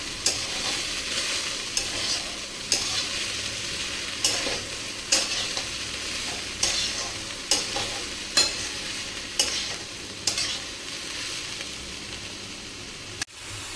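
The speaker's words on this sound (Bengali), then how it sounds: "ভালো করে মিশিয়ে নেব" Ash gourd (chalkumra) fry with four or five slit green chillies being stirred in a pan, a steady frying sizzle under regular scraping strokes of the spatula roughly once a second, close and moderately loud.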